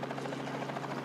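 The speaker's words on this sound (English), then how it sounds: "Small choppers performing a massive job with life still on the line." Small helicopters fly food drops over flooded outback country in northwest Australia, a steady, fast rotor chop that stays even and continuous throughout.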